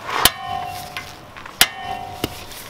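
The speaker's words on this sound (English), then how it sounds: "And then you smack it with the hammer." Three sharp metallic hammer blows strike an impact screwdriver, each leaving a brief ringing tone, spaced unevenly over a few seconds with no talking.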